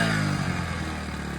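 Motorcycle engine idling steadily after carburetor tuning, a smooth continuous mid-low drone with steady harmonics, close and fairly loud, no talking.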